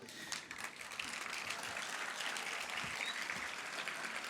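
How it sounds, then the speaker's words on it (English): Faint, distant applause from an audience at a summit inauguration ceremony, a steady patter of clapping that continues evenly without any voice over it. "this claps, this applause is for you people"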